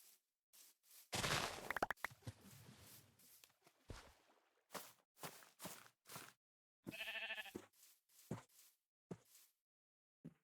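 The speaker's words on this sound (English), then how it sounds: "And where were these sheep?" In Minecraft, one sheep gives a single clear bleat partway through, surrounded by sharp in-game thumps and clicks spaced irregularly across a quiet background.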